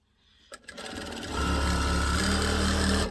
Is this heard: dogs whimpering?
no